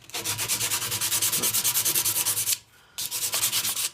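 Bondo body filler being sanded on a dented motorcycle gas tank, heard as rapid, steady back-and-forth rasping strokes close by, with a brief pause near the end before the scraping resumes.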